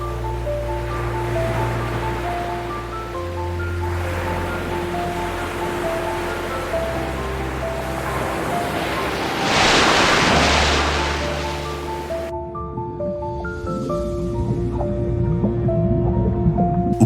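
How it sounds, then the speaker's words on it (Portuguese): Ocean waves roll onto Panama's coast in a steady wash of surf that swells to a louder crash midway, heard under sustained music notes and a continuous low tone. "o som do mar é sua eterna oração"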